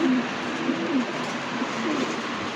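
Pigeons coo in low, soft, repeated rolling calls, close by against a steady background hiss.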